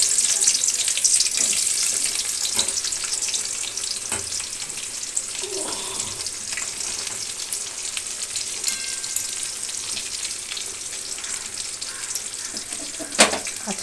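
Chopped onions and ginger-garlic paste frying in a wok for a mutton curry give a steady, bright sizzle, broken now and then by soft stirring scrapes and a sharp clink near the end.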